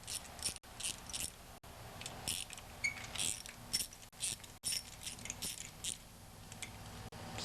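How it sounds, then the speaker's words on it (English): A 3/8 socket wrench ratchets close up while bolts come off the open side of an MTD snowblower, giving bursts of quick clicking with brief pauses between them. "I'm going to take off the bolts on the open side."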